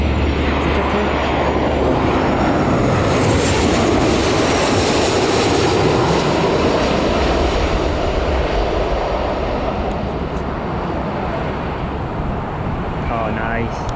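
A Jet2 airliner at Newcastle Airport gives a sustained, loud engine roar that swells and then eases slightly, steady throughout, with voices faintly present underneath.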